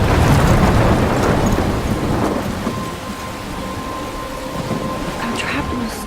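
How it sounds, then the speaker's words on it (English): In the video game Life is Strange, a thunderstorm rolls on with heavy rain pouring steadily and deep thunder rumbling close at the start, then easing into a dense, even downpour. "I'm trapped in a storm?"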